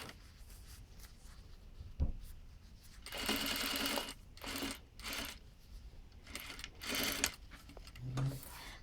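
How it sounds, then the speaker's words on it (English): Sewing machine stitching the sides of a fabric triangle while easing a waistline, running in several bursts of a second or so with short pauses between, close and moderately loud, plus a faint thump and handling noise. "I just sew down, just like you're sewing, you know, sides together. You're sewing the sides of the triangle together."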